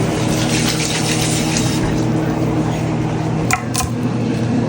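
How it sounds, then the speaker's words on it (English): Tap water runs steadily as hands are washed under it during the making of pork belly adobo, a loud continuous rush close by with a brief splash near the end. "wash my hands."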